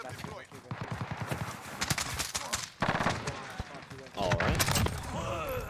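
Rapid bursts of gunfire crackle through a multiplayer first-person shooter match, repeated volleys at mid distance mixed with game voice callouts and a busy layered backdrop.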